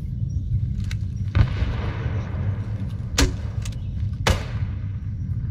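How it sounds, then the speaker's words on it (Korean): Mortar artillery fire in the video game ArmA 3, in a night Vietnam-era strike mission, heard as a few dull distant thumps spaced over a steady low rumble. "포반 사격."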